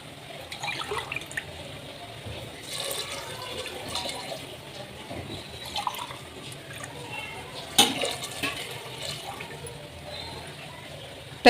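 Two to two and a half glasses of water poured into a pressure cooker of chicken biryani, heard as intermittent splashing and trickling at a moderate distance, with a sharper splash partway through.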